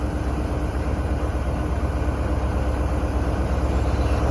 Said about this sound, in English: Departing out now is the 1416 ScotRail service from Edinburgh Waverley to Inverness